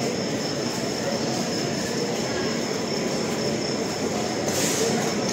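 A train stands at its departure station while passengers board a sleeper coach, heard as a steady rumbling hum with a faint high whine and a brief hiss near the end, with no clear talking.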